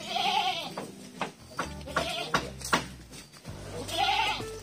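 Goats on a small farm, a herd of about seven, bleat close by in several loud, wavering calls with short pauses between them.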